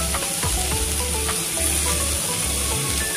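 Spices sautéing in a pan while dry bombil (Bombay duck) chutney is being made, a dense steady sizzle with scattered crackles and faint stirring scrapes, close and continuous with no talk.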